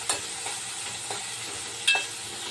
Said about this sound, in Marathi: नंतर आपण थोडंसं त्याला भाजून घेऊया व्यवस्थित